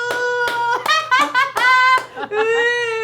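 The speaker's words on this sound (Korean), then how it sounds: "자 박수." A family claps hands during a playful home game, a few sharp claps mixed with children's giggles and bright, excited voices up close.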